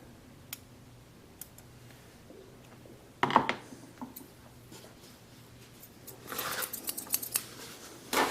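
Freshly sharpened bevel-edge shears make a sharp snip partway through and then a quick run of crisp cuts near the end, with scattered small ticks in a quiet room.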